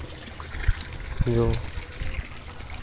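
A running motor pump on a village farm pushes water out in a steady, noisy gush, with a voice talking over the constant rushing.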